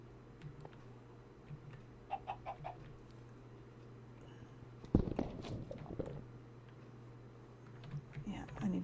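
Minecraft chicken clucking in short, soft bursts over a steady in-game background hum, with a player talking throughout and a sharper thud partway.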